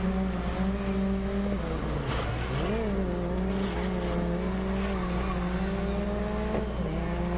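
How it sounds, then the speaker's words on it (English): Race car engines in the Grid Legends racing game, a steady loud droning roar with shifting revs and tire squeal as the car overtakes rivals, running continuously without any talk. "The engine sound is amazing."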